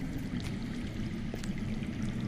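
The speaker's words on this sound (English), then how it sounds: "I hear water. From underground." Underground water flowing in the Game of Thrones Telltale video game, a steady rushing pour at moderate volume with a low rumbling undertone, continuous throughout without speech.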